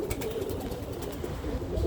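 Birmingham Roller pigeons coo in a low, steady murmur that carries on throughout, with no one talking over it.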